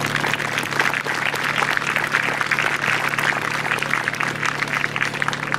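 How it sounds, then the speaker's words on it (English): Clapping from a youth baseball league's closing ceremony crowd for the minor league coaches, a continuous, moderately loud wash of hands with a steady low hum beneath it. "please give them a round of applause"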